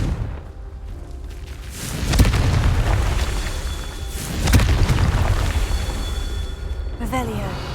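Confringo fire spell explosions in Hogwarts Legacy: two loud, broad booming blasts land a couple of seconds apart over a dense rumbling background, with a faint chirp near the end.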